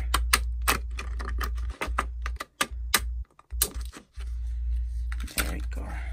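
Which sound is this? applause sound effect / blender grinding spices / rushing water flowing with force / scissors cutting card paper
scissors cutting card paper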